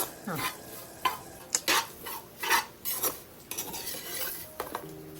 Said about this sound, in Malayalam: കൂട്ടുകറിക്ക് നമ്മൾ തേങ്ങ ചിരകി ഇതാ താളിച്ച് വറുക്കാൻ വെച്ചതാണ്